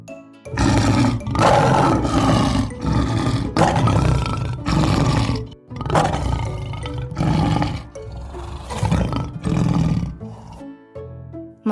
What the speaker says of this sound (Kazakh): Бұл арыстан.